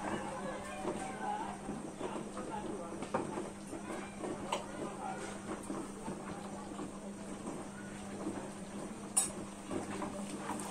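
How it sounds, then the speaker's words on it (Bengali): Ground spice masala of coriander, cumin and turmeric being stirred and fried in a pan for a dhaba-style chicken bharta, with a steady close hiss and scattered metallic spoon scrapes and clinks against the pan. "আমাদের মশলাটা কষা হচ্ছে"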